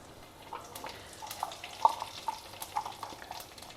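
Dry red chillies and curry leaves sizzling in hot oil, a soft, faint crackle with scattered light pops over several seconds, no voices.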